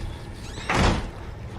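A door in the horror video game Outlast closes with a single short, loud thud and rush lasting about a third of a second, set against a low background hum.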